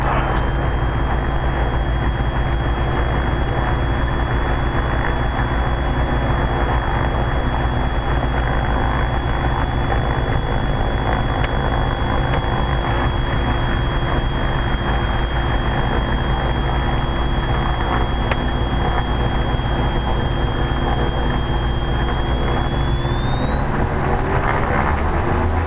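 A Diamond DA-42 NG twin-engine aircraft runs at full takeoff power, producing a loud, steady, unbroken drone with sustained tonal whine that rises slightly in pitch near the end as the aircraft accelerates; no voices are heard.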